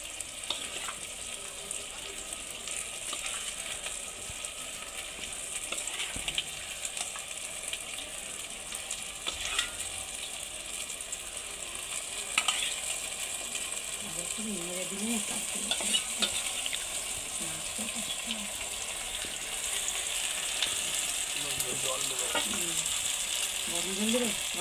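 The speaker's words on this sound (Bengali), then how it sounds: "দেখো বন্ধুরা, এবার চিকেনগুলো দিয়ে দিচ্ছি" Marinated chicken fries with onion and garlic in a pan, a steady sizzle with occasional scraping stir strokes and clinks, close and moderately loud, no talking.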